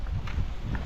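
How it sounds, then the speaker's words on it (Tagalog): A few quiet hoof clip-clops from a horse, uneven and distant, blending into a low rumble of background noise. "Ang ganda ng kabayo."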